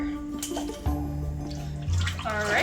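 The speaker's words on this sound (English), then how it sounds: "and then 2 cups of water" Water runs from a tap into a soup pot for Zuppa Toscana after chicken broth, a steady splashing pour with shifting pitch as the pot fills, heard close and alone.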